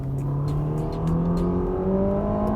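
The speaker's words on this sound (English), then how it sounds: "Of course, you hear that Ferrari sound." A Ferrari Roma engine roars steadily and climbs in pitch as it accelerates, loud and close, with a downshift to third gear midway.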